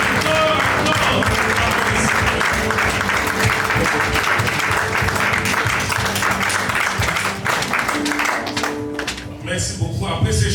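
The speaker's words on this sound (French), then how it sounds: "Acclamons les Seigneurs, acclamons ces peuples résilients" An audience at a Genocost 2025 commemoration gathering in Fribourg claps and cheers continuously, a dense, loud wash of applause that carries on throughout before thinning slightly near the end.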